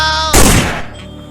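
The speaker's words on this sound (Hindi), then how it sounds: "बॉब ने तो रॉड को गोली मार दिया" A single loud, sharp gunshot effect from an animated horror story fires abruptly, its burst decaying into a short ringing tail.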